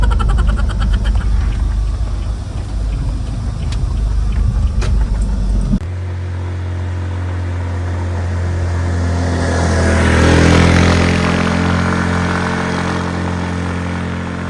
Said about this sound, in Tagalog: Kaya ng motor na akyatin ang lugar na ito.